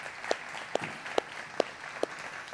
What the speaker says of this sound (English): let's give Pastor Ray a big round of applause for having the courage